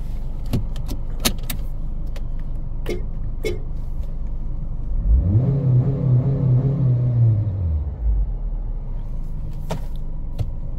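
A 2021 Honda HR-V Sport AWD accelerating, its engine rising into a loud, swelling drone for a few seconds before easing off, over steady road rumble and scattered interior clicks and taps, with no talking.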